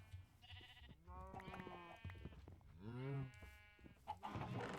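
Cattle mooing in a Minecraft modpack, with several drawn-out animal calls in a row over quiet game background sounds.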